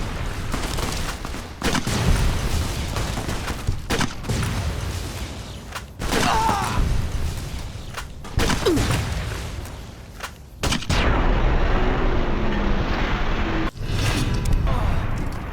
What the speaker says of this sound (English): I have to use every chem in my inventory on my limited supply of plasma grenades just to take them out.